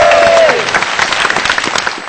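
Applause breaks out from a studio audience at an Indonesian marketing talk show, a dense steady clatter of clapping that carries on after a brief tone at the start.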